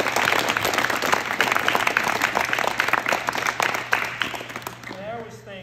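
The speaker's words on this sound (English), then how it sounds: "How about a round of applause for?" A crowd at a high school soccer awards event claps in sustained applause that fills the room, then thins out near the end as a voice begins to speak.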